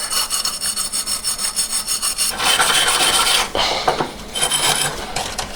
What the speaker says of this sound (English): Just roughing it up so the paint can key to it.